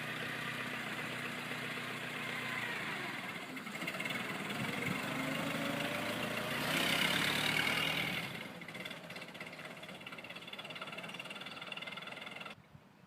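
A Ford Model T's hand-cranked 2.9-liter four-cylinder engine of about 20 horsepower chugs along with a mid-pitched mechanical clatter, swelling louder near the middle before easing off toward the end, with no voices heard.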